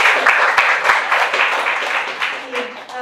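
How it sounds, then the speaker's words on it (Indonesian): Audience at a public discussion forum applauding a guest, a dense burst of crowd clapping with a few sharp individual claps up front, and a voice begins speaking under the fading applause near the end. "Boleh tepuk tangan."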